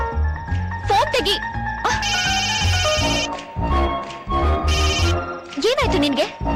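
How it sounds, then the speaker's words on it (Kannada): Telephone bell ringing in short repeated bursts, mixed among spoken voices and background music in an indoor film scene. "ಶಿವು, ಫೋನ್ ತೆಗಿ."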